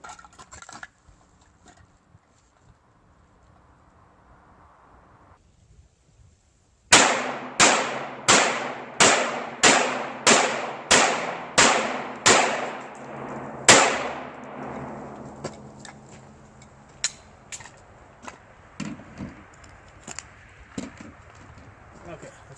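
A Glock 17 9mm pistol fires about ten sharp, evenly spaced shots at steel barrels, each crack followed by a ringing metallic decay, then a few scattered clinks and fainter taps as it ends.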